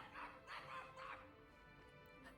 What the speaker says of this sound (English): Oh, the dog.